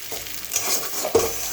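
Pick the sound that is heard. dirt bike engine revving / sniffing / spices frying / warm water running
spices frying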